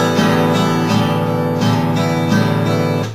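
Electric guitar strummed with a pick in repeated up-and-down strokes, the pick scooping through the strings from a turning wrist; steady sustained chords with four evenly spaced attacks, loud and close, no talking.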